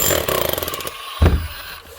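A Metabo MHEV 5 BL brushless demolition hammer with a chisel stuck in hammer mode runs with a loud, fast mechanical rattle, then winds down and stops, followed by a single dull knock.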